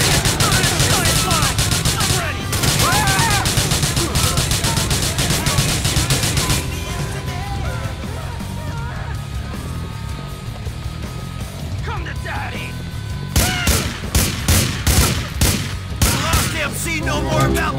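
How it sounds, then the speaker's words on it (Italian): Rapid bursts of submachine gun fire in GTA 4: The Lost and Damned, loud and dense for several seconds, then a quieter stretch before fresh clusters of sharp shots near the end, with someone talking over the shooting. "Con solo una mitraglietta così."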